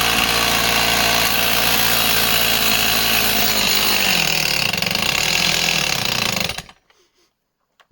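A vintage 1960 saw engine runs loud and close with a rough buzzing drone, slowing and wavering near the end before cutting out abruptly into silence.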